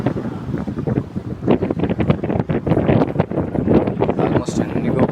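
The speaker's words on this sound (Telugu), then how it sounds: "గాలి ఇలా ఉంటాయి ఫుల్ గాలి వస్తుంది" Gusty wind buffets the microphone in a steady roar at the Hampi Sri Krishna temple ruins, with a voice talking underneath.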